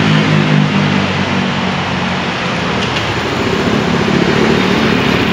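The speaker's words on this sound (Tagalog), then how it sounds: "pag in-start nyo siya, napakatahimik ng makina" A Rusi Sparkle 150 FI liquid-cooled motorcycle engine idles steadily and quietly nearby with a smooth, continuous low hum and no revving, heard alone without talk.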